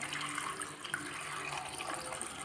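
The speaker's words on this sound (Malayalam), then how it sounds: "ഇതിലേക്ക് ആവശ്യത്തിന് വെള്ളം ഒഴിച്ചു കൊടുക്കാം" Water runs steadily into a pressure cooker holding cassava pieces, a soft continuous splashing pour heard close up without any talk.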